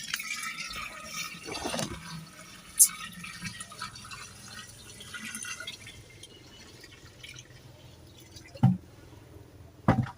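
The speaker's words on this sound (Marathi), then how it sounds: "ह्यात आता आपण गोमूत्र ओतता लागलोय" Cow urine pours into a container with a soft, low liquid trickle and splashing, joined by a few sharp knocks and clicks, with no talking.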